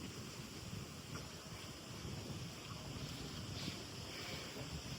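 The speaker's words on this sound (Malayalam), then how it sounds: "നല്ല കാറ്റുണ്ട്." Steady wind blowing across an open mountain ridge near Thiruvananthapuram, a continuous broadband rush and buffeting against the microphone with no talk over it.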